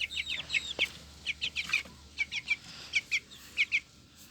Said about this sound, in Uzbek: Mana jo'jalarimiz.